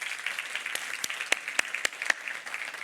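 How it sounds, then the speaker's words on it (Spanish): A church congregation applauds a group during a Sunday resurrection service: a steady crackling wash of many hands clapping, with a few sharper, louder claps standing out near the end, and no voices. "denle un aplauso fuerte al grupo que está en Vickery"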